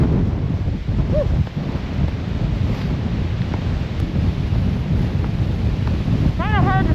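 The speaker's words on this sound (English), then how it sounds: "I think that was a gust of 34." A strong wind gust buffets the microphone on the Loch Vale mountain trail in winter, a continuous loud rushing roar with brief rumbling surges and faint chirps near the end.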